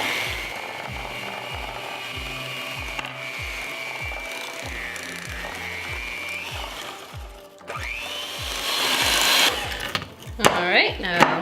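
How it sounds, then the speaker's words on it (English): An electric mixer beats eggs into a gluten-free chocolate cake batter, a steady motor whirr with rhythmic knocking that speeds up into a louder whine near the end, with occasional speech. "with your mixer on low, and then kick it up to incorporate the egg"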